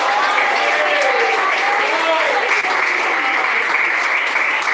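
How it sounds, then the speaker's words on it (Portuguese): A church congregation claps loudly and continuously in a dense, steady wave, with voices rising from the crowd underneath the applause. "Bate mais palmas e dá mais glória a Deus."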